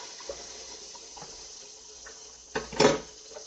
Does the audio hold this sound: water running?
yes